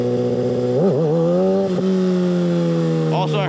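A 600cc super sport motorcycle engine revving during wheelie practice, a loud, close, steady drone that rises and dips as the throttle is blipped, with a sharper rev near the end.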